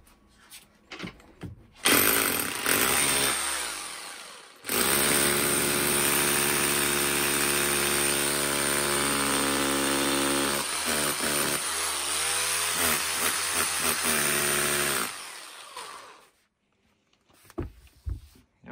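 A Makita HR2470 rotary hammer with no hammering action whirs loudly and steadily at close range, with a brief burst first, then a long continuous run that winds down.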